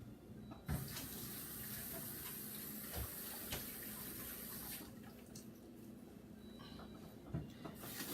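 A kitchen sink tap runs steadily while hands are washed, a constant close splashing stream with a few clunks and knocks, the flow easing near the end, with no talking.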